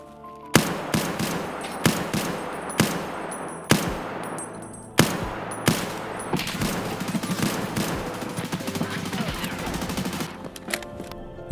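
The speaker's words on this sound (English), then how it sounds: "Here's a clip of the first time I've shot an SKS all wipe." Semi-automatic SKS rifle fire in the game Escape from Tarkov, with sharp loud shots at an irregular pace amid a busy gunfight, with other gunfire and metallic clatter overlapping throughout.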